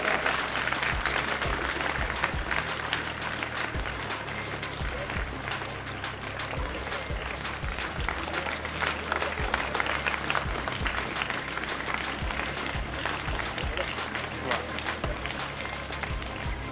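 Sustained crowd applause at a school sports competition's opening ceremony in India, dense continuous clapping that stays loud and steady throughout, with some voices mixed in.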